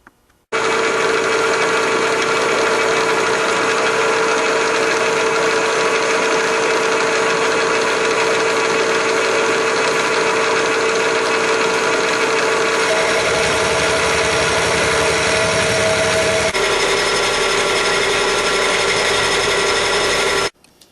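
A milling machine runs steadily, an end mill cutting the top of a metal cylinder head, a dense mechanical whine and hum that shifts in tone partway through.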